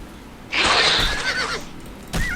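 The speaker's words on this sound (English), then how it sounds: "And for good measure, I'm killing the horse too." A horse in the game Oblivion neighs loudly while being killed, one shrill, wavering whinny followed by a short second cry, close and alone.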